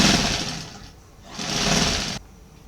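A sewing machine stitches the center front and back seams of baby girl shorts in two rapid, close bursts separated by a short pause, then stops abruptly, with no talking.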